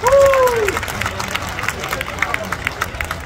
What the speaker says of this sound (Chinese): 给自己掌声鼓励一下吧